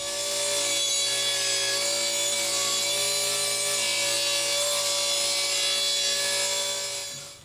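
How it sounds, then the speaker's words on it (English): A saw rips a wood board lengthwise to a rough height for a wall robe hook project, giving a steady, loud, continuous cutting whine that holds for about seven seconds and fades at the end. "Okay, that's ripped down to a rough height"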